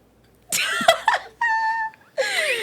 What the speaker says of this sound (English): trying to meow for food